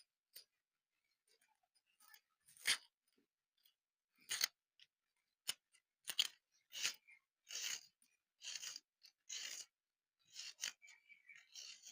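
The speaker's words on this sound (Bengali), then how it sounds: "পেঁয়াজ দুটো একদম চৌকো চৌকো করে ঝিরি ঝিরি করে কেটে নেব।" Two medium onions are chopped into small cubes with scattered, irregular knife taps on a board, some isolated and some in quick bursts, with quiet pauses between them.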